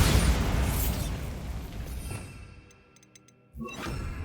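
A Bombarda blasting spell detonates in Hogwarts Legacy with a loud, rumbling explosion that fades out over a few seconds. A second, sharper blast follows near the end, with faint metallic ticks in between.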